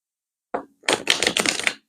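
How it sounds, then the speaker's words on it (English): Tarot cards get shuffled in a quick papery flick followed by a rapid, crisp riffle lasting about a second, close and alone. "Two more shuffles."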